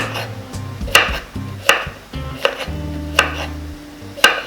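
A knife cuts zucchini into cubes on a board, with about half a dozen crisp, close chops at an uneven pace and softer thuds and scrapes between them.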